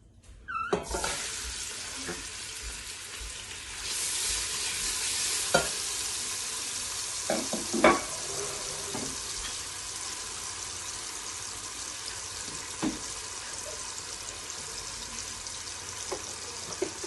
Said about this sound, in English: I'm just waiting for the onion to fry a bit. Let me stir it while it's frying.